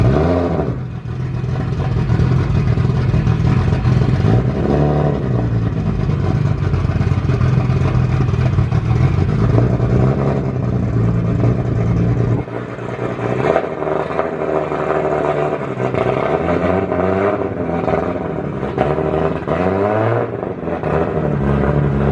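A big single-cylinder engine at a Japanese used-car auction revs hard and close, a loud, rough, pulsing roar that climbs and falls in repeated bursts with no voices over it.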